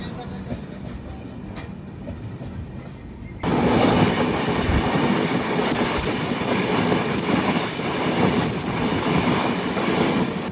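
The Trivandrum Rajdhani Express rolls on its rails at night as it enters Sawai Madhopur station, with a continuous rumble and wheel clatter that suddenly grows much louder partway through and stays up close.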